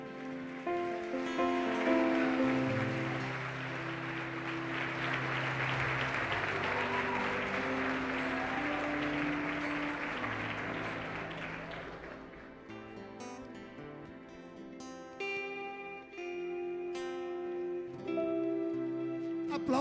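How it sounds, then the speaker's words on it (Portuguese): A church congregation claps steadily for a woman pastor over ongoing worship music, the broad wash of applause swelling early and fading after about twelve seconds while the instruments carry on. "Aplauda o servo de Deus"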